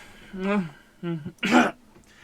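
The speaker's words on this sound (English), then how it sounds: "You can hear him coughing on the other end of the line" A few harsh coughs and throat-clearing sounds, muffled and thin as if heard over a phone line.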